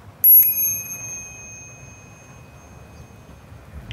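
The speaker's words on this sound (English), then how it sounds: "It's a bell, of course." A bicycle bell kept aboard a sailboat rings twice in quick succession, bright metallic dings that ring out and fade over a quiet low background.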